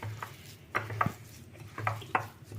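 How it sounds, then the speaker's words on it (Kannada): A spoon repeatedly scrapes and knocks inside a bowl while semolina (rava) batter is mixed for crispy rava vada, steady rhythmic clinks and soft thuds, close and moderately quiet with no voices. "ರವೆ ಹಾಕಿ ಚೆಂದಾಗಿ ಕಲಿಸ್ಕೊಳ್ಳೋಣ"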